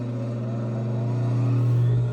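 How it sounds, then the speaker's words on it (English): A sewing machine stitches the side seams of a tote bag, its motor humming steadily and growing slightly louder before easing off at the end, with no talking. "So I'm going to go ahead and turn my machine on."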